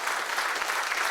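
An audience claps together in a dense, even burst of applause that stays steady and fairly close throughout.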